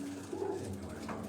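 Pigeons coo softly on a rooftop, a low throaty warble rising and falling twice in quick succession at moderate distance, with faint ambient noise and possible murmured voice.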